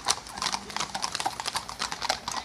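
Several horses trotting on open ground at Postbridge in the UK, hooves clip-clopping in a quick, steady, overlapping rhythm at moderate distance, with no talk over them.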